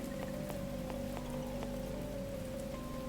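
Steady rain pattering on a surface, a dense continuous hiss with scattered sharper drops and a faint low tone running beneath, close and even throughout.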